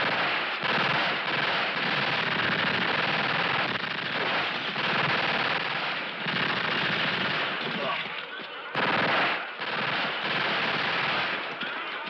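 A sustained volley of gunfire in a 1971 western erupts after a firing command, dense rapid shots roaring almost without pause, with a short break near the end before firing resumes.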